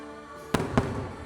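Two sharp fireworks bangs burst over a steady crowd murmur at Magic Kingdom, the blasts spaced about a quarter second apart and echoing briefly.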